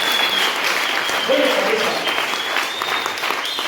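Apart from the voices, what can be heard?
congregation applauding the pastor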